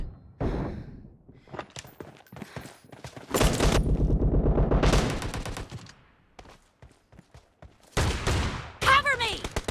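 Shotgun fire in the mobile battle royale game BGMI: loud, close bursts of rapid shots in clusters, separated by short pauses and quieter clicks.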